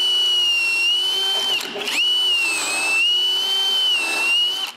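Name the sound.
drilling holes for dowels with a doweling jig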